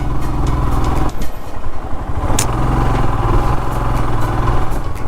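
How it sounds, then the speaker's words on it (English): A Royal Enfield Himalayan motorcycle being ridden through hilly Munnar, with a loud, close, steady single-cylinder thump and rumble from the engine, wind noise, and a gear change partway through. "I love this riding with Himalayan."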